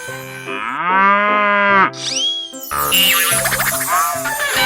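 A cow in a 3D animal video game lets out a long, loud, close moo with bouncy cartoon effects, backed by upbeat game music.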